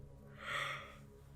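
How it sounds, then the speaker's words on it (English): A single soft yawn, a brief breathy swell rising and fading over about a second, close and quiet. "Why am I yawning?"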